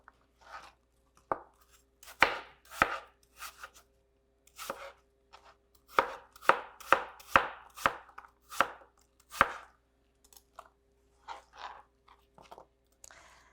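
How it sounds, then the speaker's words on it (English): A knife dicing an apple into small bite-sized cubes on a cutting board, giving crisp crunchy chops in irregular bursts, some quick runs and isolated single cuts, close and clear with no talk. "your apple into equal size cubes"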